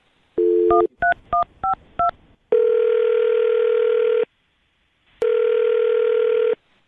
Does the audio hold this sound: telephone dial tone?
yes